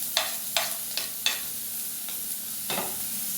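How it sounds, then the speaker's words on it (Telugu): Ginger, garlic, carrot and green chilies fry in a pan under a constant sizzle, broken by several scraping strokes of a spoon stirring the pieces at an uneven pace. "ఇవి కొంచెం బాగా ఫ్రై కావాలి."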